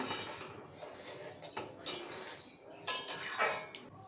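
A metal spoon scraping and clinking in a pan while fried paneer koftas are stirred into a curry, with irregular scrapes and a few sharper clanks, close and fairly quiet.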